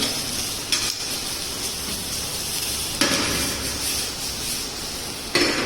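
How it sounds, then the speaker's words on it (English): Sliced onions fry and caramelize in a pan for Lyonnaise potatoes, giving a steady close sizzle broken by three sharp clanks of a utensil against the pan. "So the caramelization is the browning the onion."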